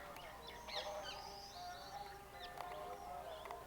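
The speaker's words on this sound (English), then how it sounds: "This is the garden with the weird little red bird that attacks cats." A small red garden bird calls in a hotel garden in India or Nepal, with several short, bright chirps and whistles over a steady outdoor background, moderately close.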